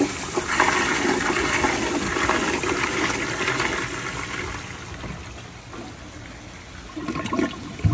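A new-old-stock 1991 Kohler Kingston toilet flushes a grocery bag: a loud, rushing gush of water at the start that eases into a swirling drain and trickle, with a brief gurgle near the end.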